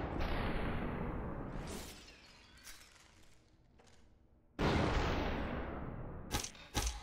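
Gunfire in the video game SuperHOT: Mind Control Delete, with a loud crashing burst at the start, a quieter stretch, then another sharp volley and a few quick cracks near the end.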